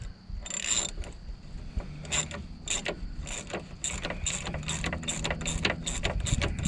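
Ratchet wrench working on a steering pitman arm shaft during a shaft seal replacement, giving a series of quick, close mechanical clicks in short bursts with steady workshop background noise and no talk.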